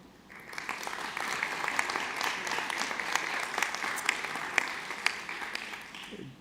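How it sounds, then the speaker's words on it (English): Applause from a conference audience for the panel speakers swells after a moment into dense, sustained clapping, with sharper individual claps standing out near the end. "giving a huge round of applause to our lovely speakers"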